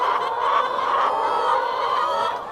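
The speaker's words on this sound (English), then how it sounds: "rearing chickens for their meat, broilers, who might look a bit mangy here from lack of feathers" A large flock of broiler meat chickens clucks and murmurs together in a dense, continuous chorus indoors, loud and close with no single bird standing out.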